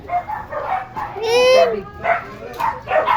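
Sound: dogs barking

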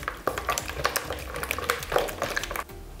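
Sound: stirring salt and sugar into the dough mixture

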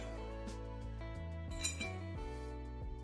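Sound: jar being picked up, clinking

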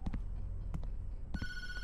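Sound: phone ringing in the video game Tattletail

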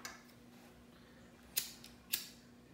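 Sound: cutting chenille loop to make a fly-tying crab claw

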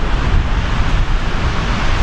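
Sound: rough sea waves on Benidorm beach

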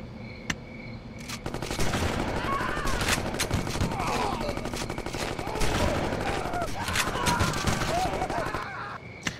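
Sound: gangsters shooting guns in Gangsters 2 Vendetta video game

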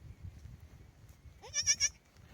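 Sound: goat bleating

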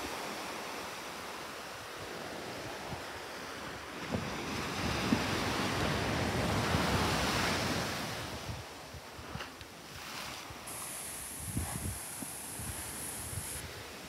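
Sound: ocean waves and wind at the beach, Santa Cruz, California

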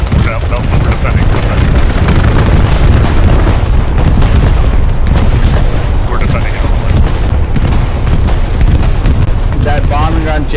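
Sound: bombing run explosions in video game Hell Let Loose

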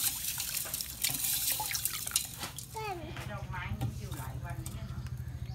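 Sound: stirring salt into water to soak santol fruit

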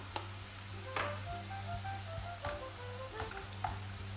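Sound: onions and capia peppers sautéing and stirred in a pan

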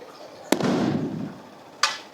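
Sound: firecrackers bursting in Tanguturu village

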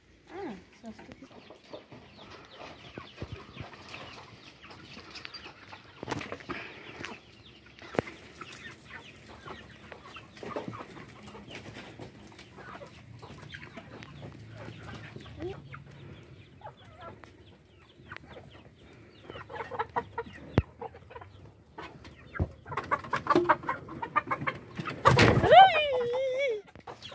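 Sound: chickens and rooster clucking

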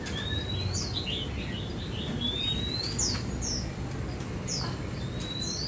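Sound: Chòe than (magpie robin) birds chirping

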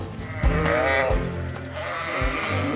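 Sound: sheep bleating on a farm

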